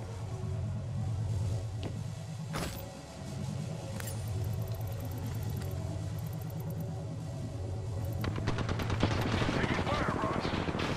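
Apex Legends gunfire sounds in sharp single shots and then a rapid, dense automatic burst near the end, over a constant low engine-like rumble, with game voice callouts throughout.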